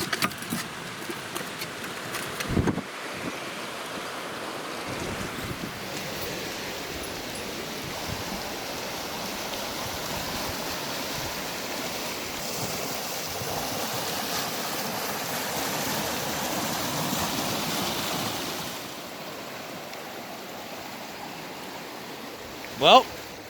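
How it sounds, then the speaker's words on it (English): The Kern River rushing past a campsite, a steady broadband roar of fast water heard close and continuous, with a few brief knocks and handling noises near the start and end. "this really pretty gnarly river is right here. And what it does is it comes a ripping in from over here."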